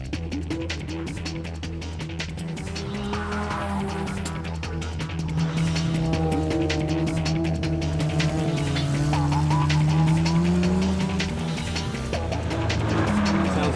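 A 1984 Mazda RX7 race car laps a track with a steady, droning engine note that rises and falls through gear changes, alongside other cars in the pack, loud and continuous, with a commentator talking over it.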